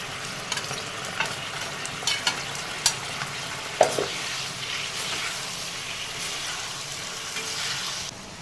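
Fried chicken pakora pieces drop into a hot pan of sauce for dry chilli chicken, setting off a continuous sizzle punctuated by several sharp knocks and scrapes of stirring, close and fairly loud, with no talking.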